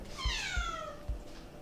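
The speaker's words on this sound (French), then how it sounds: "Et là vous entendez le chat Ulysse derrière qui est en train de pleurer à la mort parce qu'il a envie de sortir" Indoors, a cat gives one long, drawn-out meow, crying to be let outside. It sounds fairly clear over a quiet background with a few soft thumps.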